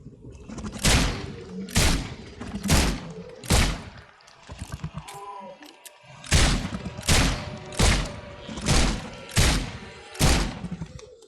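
Gunshots in The Sinking City horror game ring out as a slow, evenly spaced series of about ten loud, sharp reports with booming tails, broken by a short pause after the fourth shot.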